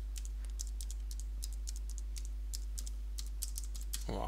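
Computer keyboard keys clicking in quick irregular bursts as a password is typed on a Ubuntu Linux machine, close and fairly quiet over a steady low hum, with no talking.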